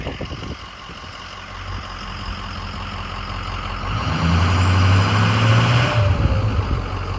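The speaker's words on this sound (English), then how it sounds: "this is the turbo flutter that I let off" A Ford 6.0 Powerstroke diesel truck engine runs steadily, then revs up around midway with a rising whine and tonal flutter from the turbo as the throttle is released, close and fairly loud.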